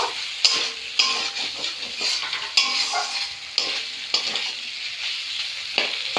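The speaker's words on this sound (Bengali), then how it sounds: "মশলাটা যাতে পুড়ে না যায় সেটা একটু খেয়াল রাখতে হবে বারে বারে একটু করে নেড়ে দেব" Spices for a pabda fish curry with potato and tomato are stirred as they fry in a pan, a steady sizzle broken by regular scrapes of the spoon against the metal, close and with no talk.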